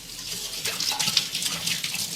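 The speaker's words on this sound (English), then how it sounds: "And turn the water on." Tap water running over a lemon in a sink as it is washed, a steady splashing stream that starts after a short pause and keeps going, close and fairly quiet.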